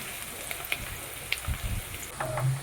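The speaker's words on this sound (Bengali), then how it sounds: "এরপরে পেঁয়াজ ভাজতে বসিয়ে দিয়েছি, একটু তেল তেলা করে আজকে করছি" Onions frying in a generous amount of oil in a pan for a chicken lunch, a soft steady sizzle with occasional clinks and stirring knocks, close and moderately quiet.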